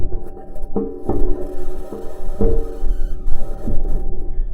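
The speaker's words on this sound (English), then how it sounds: "This is the sound of the rover driving on Mars." Perseverance rover's metal wheels rolling over Martian ground, a continuous grinding, buzzing drone with steady tonal whine and several sharp clanks and squeaks spaced irregularly, close and fairly loud.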